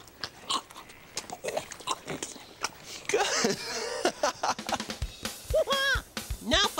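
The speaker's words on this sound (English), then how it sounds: "Listen to the sound that horses make when they chew." A horse chews an apple up close, with wet crunching and irregular grinding bites, and a voice talks briefly over part of it.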